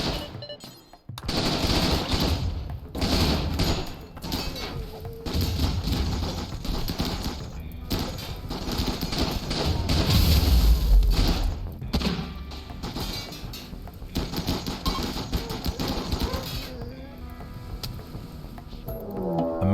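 A drop pod raid in RimWorld brings mortar shells and gunfire into a walled colony and its workshop, with dense rapid bursts, heavy thuds and booming impacts layered loudly throughout, thickest around the middle.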